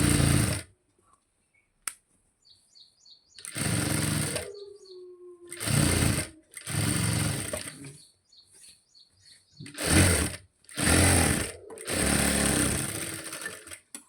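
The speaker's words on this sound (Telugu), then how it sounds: "మొత్తం చివర్లన్నీ కుట్టేసుకోవాలి" Sewing machine stitching along the edges of a blouse, running in several short loud bursts separated by pauses, with faint chirpy tones in between.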